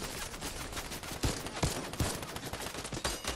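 Video game gunfire in a trios match, a dense rattle of automatic shots with a few sharper, louder bursts, continuous and loud throughout.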